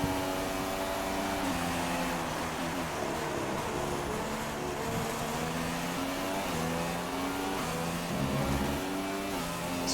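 A Formula 1 car engine under throttle in the racing game F1 2016 at Bahrain, with a steady high-pitched whine rising and falling continuously through the lap, loud and close, with no talk.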